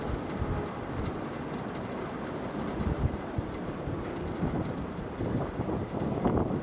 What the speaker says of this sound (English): I just wait for this next wind gust to pass.